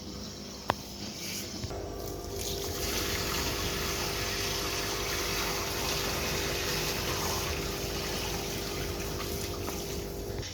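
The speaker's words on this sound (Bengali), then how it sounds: "এরপরে সেকেন্ড গামলার জলটা আমরা একইভাবে ফেলে দেবো" Water from a tub that held tubifex worms is poured out of a basin, giving a steady rushing, splashing flow that continues for about ten seconds after a faint start, with no voices.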